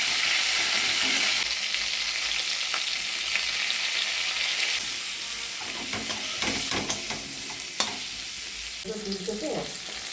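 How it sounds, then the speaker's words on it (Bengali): Cauliflower fries in oil with panch phoron, hissing in a loud, steady sizzle that eases slightly, with spatula scrapes and stirring clatter growing more frequent toward the end. "ওই তেলের মধ্যে দিয়ে দিলাম পাঁচফোড়ন, তার মধ্যে ফুলকপিগুলো দিয়ে ভালোভাবে কষিয়ে নেব।"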